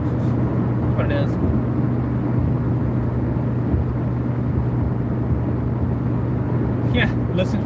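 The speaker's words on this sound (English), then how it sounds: "Yeah, listen for engine noises." Steady low rumble of a car engine while driving past a gas station, a constant drone with road noise throughout, loud and close, with faint brief sounds near the start and end.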